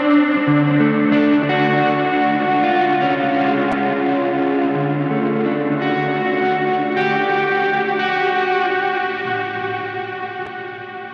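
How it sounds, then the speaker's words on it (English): Sustained PRS electric guitar chords ring out with heavy reverb and echo, washing together into a dense shimmering tone that slowly fades at the end. "Reverb is an echo."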